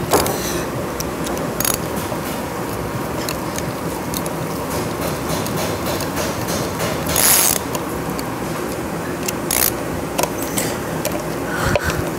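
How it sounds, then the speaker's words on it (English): An impact gun drives screws while a Mud Buddy Sport V motor is being reassembled, sounding as short, sharp, rattling bursts scattered over a steady mechanical background. "I take the risk and I start this not by hand, but it is my impact gun."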